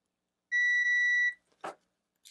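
A ZOTEK ZT-5566SE multimeter on continuity test gives one steady, clear electronic beep lasting under a second, followed by a short clack of the probe tips and a faint tick.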